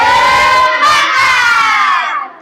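Schoolchildren in a classroom give a spirit-clap cheer, one continuous loud group shout held for about two seconds before it trails off, near and filling the room.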